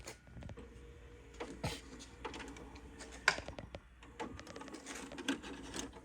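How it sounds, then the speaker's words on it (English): A Toshiba SD-V394 DVD/VCR combo stops and ejects a tape, giving a run of close mechanical clicks, clunks and whirring motor noise, with a sharper clack near the middle. "I'm going to stop it and eject."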